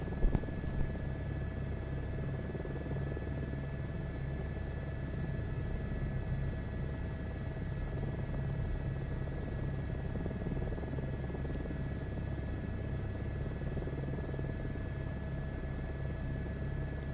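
An airplane engine in a flight game drones with a steady low hum and faint tonal whine as the aircraft sits on the runway for takeoff, held at a constant level throughout with no talking.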